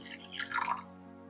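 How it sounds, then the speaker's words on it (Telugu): A brief splash of water pouring into a pan of kalakand sweet mixture, over a steady low background hum. "ఇప్పుడు ఈ కొద్ది వాటర్ కూడా పోసేసుకుందాం"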